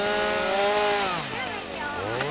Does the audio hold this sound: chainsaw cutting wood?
yes